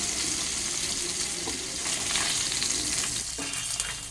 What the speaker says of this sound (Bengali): এবার মাছটা উল্টো পিঠও ভাজা হয়ে গেছে